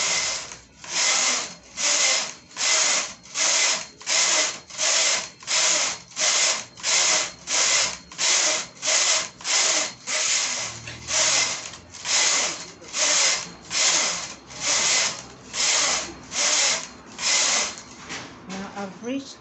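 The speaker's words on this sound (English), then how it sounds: "I'm going to knit straight up to 90 rows" Domestic knitting machine carriage swept back and forth across the bed for row after row of plain knitting, a steady loud rhythm of about twenty rasping, clattering passes with brief pauses between them.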